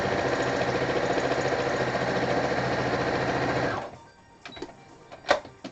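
Sewing machine stitching binding on, a close, fast rattling hum that runs steadily for a few seconds, then stops and leaves a few faint handling clicks and taps.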